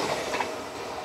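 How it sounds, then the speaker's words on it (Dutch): A train rolls past outdoors near a former deportation rail line, a faint continuous rumble and rattle of wheels heard from a distance with no talking. "En er gaat net een trein voorbij."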